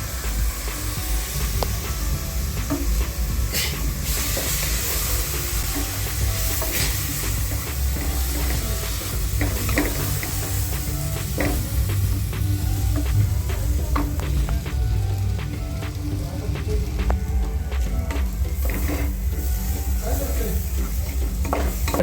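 Rice and dal stirred into sizzling onion masala with garam masala in a pot, giving a loud continuous sizzle with repeated scraping and stirring strokes and occasional metal clinks.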